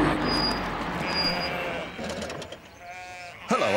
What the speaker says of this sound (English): I'm just putting these sheep back where they belong.